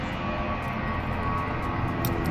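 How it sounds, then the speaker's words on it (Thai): An airplane passes overhead as a steady, broad roar, moderately loud and unbroken throughout. "เสียงเครื่องบินผ่าน"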